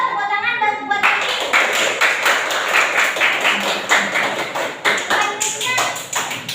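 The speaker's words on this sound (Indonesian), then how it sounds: "Tepuk tangan" Classroom students clap their hands together in a lively, irregular burst of many overlapping claps, close and fairly loud, with voices mixed in through the applause.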